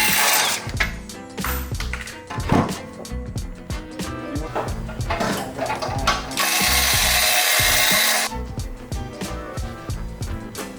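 Ratchet wrench working on the downpipe bolts of a Hyundai Elantra N during an XFORCE downpipe install, with rapid repeated clicking bursts, metallic clanks, and a steady buzzing stretch partway through, close and fairly loud.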